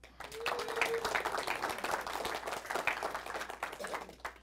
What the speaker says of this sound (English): A big round of applause for Harper.